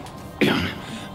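A robot in an animated Sonic the Hedgehog cartoon gives one short, harsh throat clearing that breaks into a cough, loud and close over a faint background.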